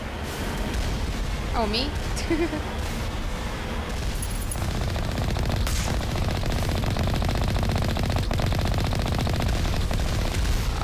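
Sci-fi gunfire in Mass Effect Legendary Edition on the moon, sustained rapid bursts of automatic weapon fire and shots crackling continuously, with a voice briefly speaking over the combat.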